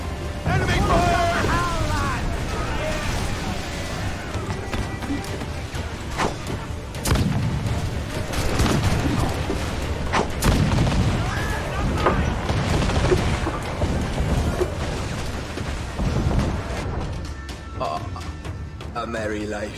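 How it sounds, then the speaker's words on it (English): Naval cannon fire during a ship battle in Assassin's Creed IV: Black Flag, with scattered heavy booms and blasts over continuous sea and battle noise while voices shout orders throughout. "Man the guns! There's more fodder for you coming! Firing! Batten yourselves! Enemy fire!"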